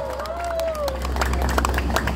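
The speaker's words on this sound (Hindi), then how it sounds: "थोड़ी सी तालियां बजाओ गाइस" A crowd at a morning walk and marathon event claps briefly in scattered applause, with a raised voice or whistle-like tone near the start and murmuring babble underneath.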